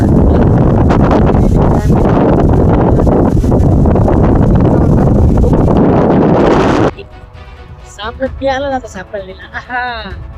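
Strong wind blows outdoors, buffeting the microphone with a loud, rough roar for about seven seconds before it suddenly drops away and a voice is heard speaking.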